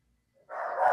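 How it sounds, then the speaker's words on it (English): Half a second of silence, then a house dog starts a single sustained bark or howl at a passerby on the sidewalk outside. It sounds moderately loud and a little distant, with no one talking. "My own dog is letting me know that someone has dared to walk past on the sidewalk."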